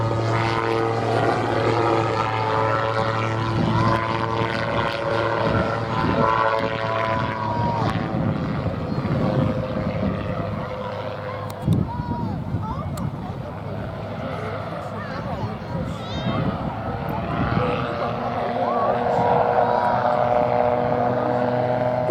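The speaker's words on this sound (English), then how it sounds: "I think the Calidus is one of the nicest of the gyrocopters that are out there." A Magni Calidus gyrocopter flies at the Midlands Air Festival, its steady rotor and engine drone filling the air continuously with a slight swell near the end, under a voice talking over it.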